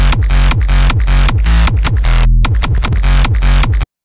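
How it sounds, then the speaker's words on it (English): A hardstyle reverse bass kick pattern from a remix of Santiano pounds in a fast, steady four-on-the-floor rhythm, each hit trailed by a rolling reversed bass tail, with one brief dropout before it resumes and then cuts to silence. "one of my favorite part of the whole track is the reverse bass kick."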